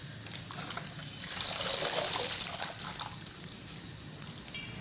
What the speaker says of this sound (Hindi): 2-3 दफ़ा पानी में धो लेंगे।